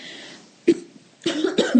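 Two or three sharp coughs in an office, close by, separated by a brief pause, with no talking.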